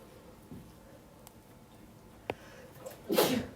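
A single sharp sneeze bursts out near the end in a classroom, after a quiet stretch with a faint click or two.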